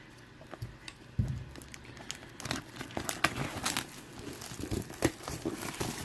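Scissors snipping and tearing through crinkly plastic shrink wrap on a Star Wars: Destiny card game box, close and dry, with irregular crackles, rustles and sharp cuts.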